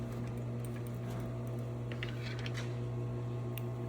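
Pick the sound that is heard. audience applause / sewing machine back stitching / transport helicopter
sewing machine back stitching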